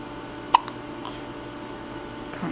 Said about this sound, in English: We hate the hiccups.